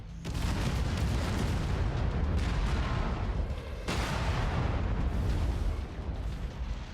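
Incoming missiles detonate in a mech combat video game, a continuous roar of loud, heavy booming blasts that rumbles on for several seconds with a brief dip before surging again.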